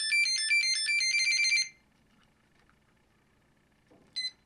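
A 4-in-1 ESC on a Pixhawk-controlled quadcopter beeps on power-up: a rapid, steady string of bright electronic tones lasts under two seconds. After a near-silent pause, one short double beep follows.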